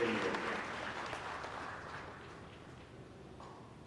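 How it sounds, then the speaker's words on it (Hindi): Audience at a free smart AI glasses distribution event for visually impaired people applauds loudly, a dense wash of clapping that fades gradually over about four seconds. "तो इसके लिए आप सब लोग जोर से तालियां बजाइए।"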